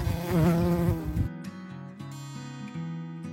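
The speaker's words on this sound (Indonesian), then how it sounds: "Kita membudidayakan 4 jenis lebah di sini" Stingless bees buzzing close by in the middle of a city, a continuous droning hum with wavering pitch that shifts slightly partway through.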